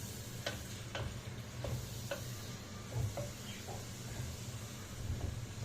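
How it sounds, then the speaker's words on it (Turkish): Food sautés in a pan with a soft, continuous sizzle, while occasional light clicks and scrapes come from stirring. A low hum runs underneath. "Sonra güzel bunu bir şöyle bir kavuracağım."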